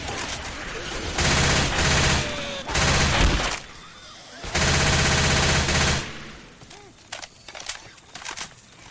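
Left 4 Dead 2 gunfire comes in three long, loud bursts of rapid automatic shots, followed by a quieter stretch with scattered single cracks and background game noise.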